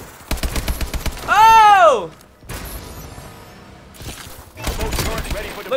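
Bursts of automatic gunfire in Call of Duty, loud and close, in short clusters separated by pauses, with a person exclaiming and talking between them.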